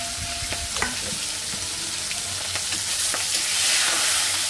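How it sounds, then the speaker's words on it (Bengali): Fish bones frying in hot oil in a home kitchen, a steady close sizzle with a few sharp crackles and clinks of a utensil against the pan, rising slightly louder toward the end. "মাছের কাটা, একটু ভেজে দেবো তেলের সঙ্গে, এই যে এটা ভাজি করবো।"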